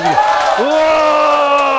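An audience shouting a cheer together at a health lecture, a loud rising whoop of many voices in unison, close and sustained.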